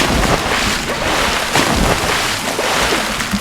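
Rushing water in the BloodRayne video game forms a loud, steady wash of broadband noise, with gusty swells and spray-like hiss that carry on without a break for the whole span.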